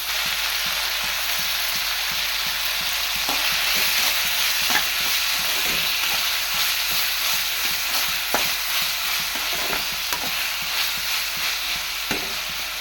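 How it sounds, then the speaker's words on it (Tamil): Tomatoes sautéing in a pan for a drumstick dish: continuous close sizzle with scattered soft clicks and scrapes of stirring, no voices. "இப்போ கொஞ்சம் நல்லா வதங்கட்டும்"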